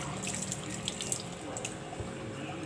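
Tap water running steadily into a sink as onions are rinsed under it, a continuous close splashing flow with light drips and no talking.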